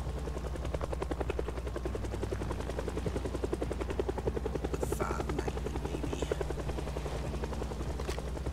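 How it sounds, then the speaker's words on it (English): Video game helicopter with its rotor chopping steadily and loudly throughout, joined by a few faint higher bursts midway. "We're gonna say hello to the helicopter."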